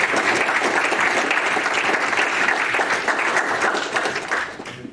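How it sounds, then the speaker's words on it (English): An audience at a tech conference applauds after a talk on Ansible, a full and steady burst of clapping at moderate distance that fades out over the last half second. "Yeah, you can clap."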